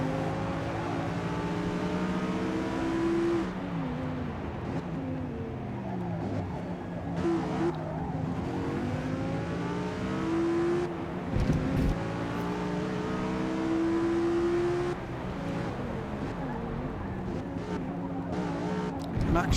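Porsche and BMW race cars in the Forza Motorsport video game roar throughout, engines rising and falling through gear changes with brief tire squeals as they battle closely.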